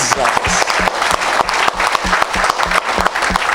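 A church congregation applauds rhythmically in unison, loud and close, with regular clapping beats and voices mixed in beneath the claps.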